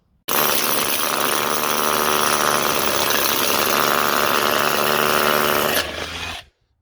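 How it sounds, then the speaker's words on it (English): DeWalt DCH273 SDS hammer drill boring into masonry, a loud continuous buzzing hammer-drive roar running steadily for about five and a half seconds before spinning down, with no talking. "I'll have to test it in a bit of masonry now to see how it goes."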